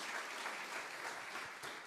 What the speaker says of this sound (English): Give that a big round of applause.